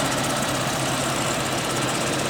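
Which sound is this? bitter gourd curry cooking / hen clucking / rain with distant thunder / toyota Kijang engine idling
toyota Kijang engine idling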